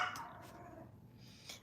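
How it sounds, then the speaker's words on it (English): A small rescue Chihuahua yaps a few quick, faint barks in a room, with no one talking. "I have a little rescue Chihuahua. She barks at everything because she thinks she's our security guard"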